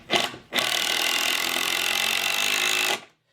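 A power driver sinking a screw into a 2-inch wooden plank for a heavy-duty sawhorse: a short burst, a pause, then a steady loud whirring drive of about two and a half seconds that stops abruptly, close up.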